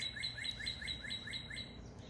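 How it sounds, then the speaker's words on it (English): Small birds chirping in a yard in a quick, even series of bright repeated calls, fairly close and clear over a steady low background hum, with no talking. "I love the birds in your yard."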